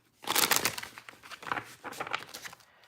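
Tarot cards are shuffled up close for a reading, making a few quick papery riffling bursts with short pauses between them.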